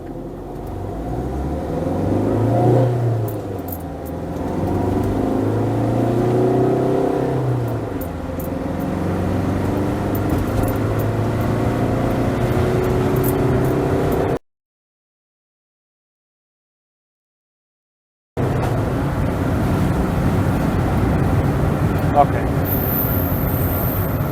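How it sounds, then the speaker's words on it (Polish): A heavily loaded Fiat Ducato van with a ComfortMatic automatic gearbox accelerates, its engine note rising and dropping through gear changes in a steady cabin drone, then cutting out briefly before resuming as a lower hum. "zobaczmy jeszcze jak w ogóle ten samochód yy, przyspiesza"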